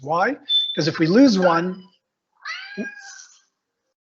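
A phone ringtone of a recorded cat meowing rings out during an online tech meetup, several drawn-out meows over and between a man's speech, loud and close.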